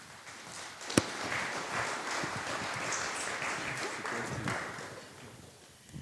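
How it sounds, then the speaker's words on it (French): An audience fills a conference hall with steady, moderately faint applause lasting several seconds, with one sharp clap standing out near the start before the clapping tapers off. "ça fait toujours plaisir de se faire applaudir par une salle remplie de personnes"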